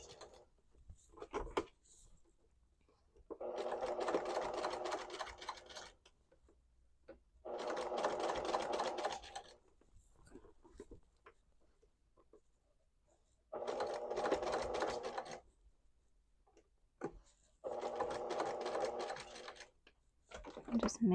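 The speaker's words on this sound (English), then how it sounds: "Just make sure your fingers are out of the way whenever you're doing this so that you don't sew over your fingers." A sewing machine stitches fabric for a witch hat in four sustained runs of a few seconds each, separated by quiet pauses, with a steady close mechanical whir.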